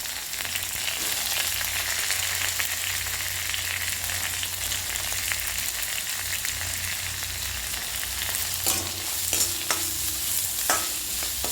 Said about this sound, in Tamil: அதுக்கு பிறகு வெங்காயம் நல்லா வதங்கணும்.